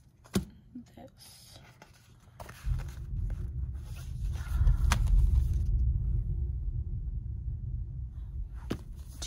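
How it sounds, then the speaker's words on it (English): A deep, low thunder rumble swells in partway through and rolls on steadily for several seconds. Closer handling and rustling noises sit on top of it, and a few sharp clicks come in near the start and end. "That was like the first thunder."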